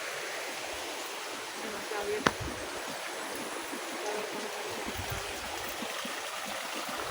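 Flowing water from a stream and waterfall at a hidden outdoor paradise spot in Iriga City, a constant broad rushing wash with a brief sharp knock near the middle.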